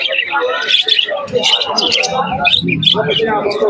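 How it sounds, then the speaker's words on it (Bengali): Pigeons at a crowded Giribaz pigeon market in Krishnanagar, Nadia, chirping and squawking in a busy jumble, with people talking over and between the bird calls. "এখানে এই কাকার কাছে কিছু কবুতর আছে দেখুন সবই গিরিবাজ কবুতর"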